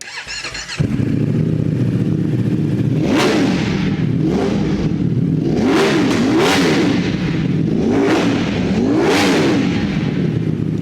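A superbike fitted with an aftermarket exhaust starts up close by, then is revved hard several times in a row, each loud rise and fall of the engine standing out over a steady, rumbling idle.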